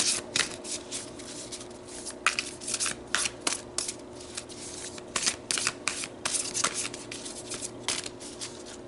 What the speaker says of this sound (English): So let's keep shuffling.